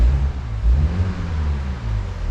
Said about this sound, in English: So I'll give the car a wee rev just to let you hear what it sounds like.